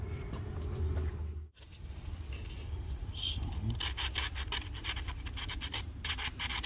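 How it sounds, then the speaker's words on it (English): A 1974 VW Beetle distributor rotor is rubbed clean with 320 grit sandpaper in close, steady back-and-forth scratchy strokes, with a brief pause and then quicker, brighter rasping passes. "we're going to go ahead and just clean this up with some 320 grit sandpaper"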